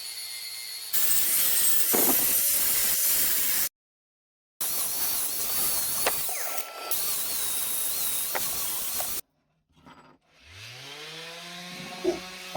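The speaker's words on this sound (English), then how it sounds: "I'm just grinding some of the welds back, trying to make them look a little bit prettier" Angle grinding back metal welds on a homemade washer bottle, loud harsh bursts broken by pauses and a brief silent gap, with the tool spinning down at the end.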